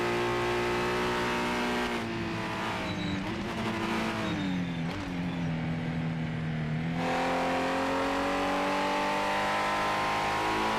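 Race car engines from the Project Motor Racing GT Icons pack, including a Ford Capri, drone loudly and constantly. The pitch dips and then climbs again as the cars brake and accelerate through traffic.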